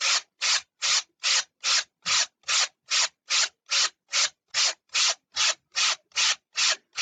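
The other side of a model plane part is sanded with quick, regular rubbing strokes, about sixteen in a steady back-and-forth rhythm. Each stroke is crisp and close, with no voices.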